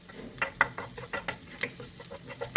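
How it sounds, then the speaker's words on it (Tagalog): Garlic followed by onion sautéing in hot oil in a pan for spaghetti carbonara, a soft steady sizzle broken by scattered stirring clicks and scrapes, close and moderately loud with no talking. "Igigisa lang natin itong ating bawang at pagkatapos itong ating sibuyas."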